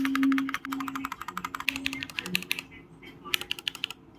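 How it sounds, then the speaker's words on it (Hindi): Rapid clicky keystrokes on a wireless mechanical keyboard, close and crisp, with a short pause before a final burst, and a faint tonal hum underneath. "ये एक वायरलेस कीबोर्ड है,"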